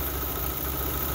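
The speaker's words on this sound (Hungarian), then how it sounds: "A motor szépen jár, nem hallok kihagyást benne" An Opel car engine idles steadily under inspection for misfires, a continuous even hum with broad noise and no obvious stumbles, close to the engine bay and alone without voices.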